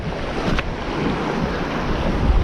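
Strong wind buffets the microphone on a bass fishing shore, a loud continuous roar with surf-like rumble and no voices.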